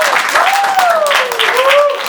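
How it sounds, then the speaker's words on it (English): Audience applause at a comedy show, steady clapping with a raised tone rising and falling through it, as if a voice or whistle carries over the crowd. "give a round of applause to the people"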